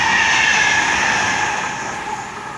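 A commuter train bound for Lahti rumbles past at Malmi or Pukinmäki, Finland, with a steady hum and rolling noise, loud at first and slowly fading as it moves away.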